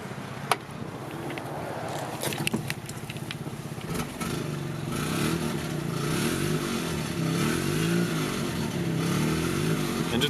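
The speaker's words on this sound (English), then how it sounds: "Engine sounds healthy." Motorcycle idling and revving, its exhaust rasping through a muffler with holes near the end; a steady, throaty burble with a few sharp blips, close and alone with no talk.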